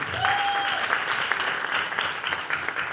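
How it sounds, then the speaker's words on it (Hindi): Audience applause at a Hindi music show, a dense wash of clapping with a brief tone rising over the start, steady and fairly loud throughout. "कुलजीत परा के लिए तालियां बजाएं"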